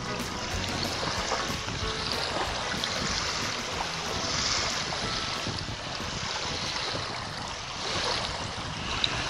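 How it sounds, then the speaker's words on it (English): An RC model schooner bobbing in waves outdoors, heard as a continuous wash of water and wind noise on the microphone, fairly loud and steady throughout with no speech. "But it bounces up and down in the waves"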